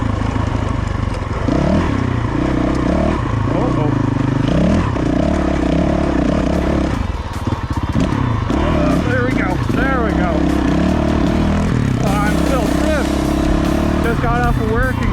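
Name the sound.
dirt bike riding on a trail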